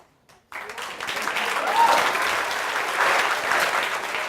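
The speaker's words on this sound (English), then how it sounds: "Huge round of applause for her." Audience at a TEDx talk breaks into loud, sustained applause after a brief quiet start, steady clapping filling the room for several seconds.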